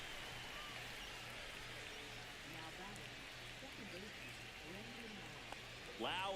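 Steady, soft rain hisses over a baseball game in a video game, continuing at an even level under a commentator's voice throughout.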